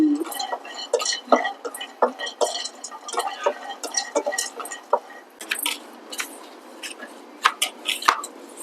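Knife chopping onion and green chillies on a board while preparing mutton biryani at home, a quick run of crisp close taps in uneven bursts with short pauses.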